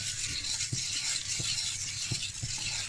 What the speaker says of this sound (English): I've never seen a whisk like this, by the way